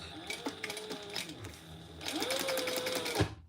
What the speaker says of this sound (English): we're just going to sew around that